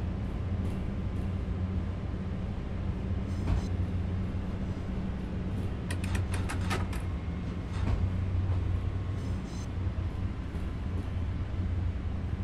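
A small shunting locomotive in the railway simulator Simrail runs with a steady low rumble near Katowice. Brief squeals and clanks break through it now and then, and no one speaks.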